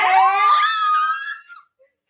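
Women scream and squeal with excitement in high, wavering bursts that hold for over a second and then trail off into quiet, loud and close with no talking.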